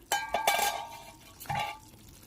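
Lid lifted off a pan of Bengali doi katla (fish in yogurt gravy) with green chillies, giving a couple of sharp metallic clinks and scrapes, followed by a softer rattle as it settles, with faint cooking hiss.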